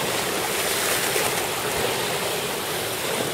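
Surf breaking at Coney Beach on a light-wind morning, about two-foot waves: a steady, loud wash of whitewater and rushing water filling the whole stretch, with no voices over it.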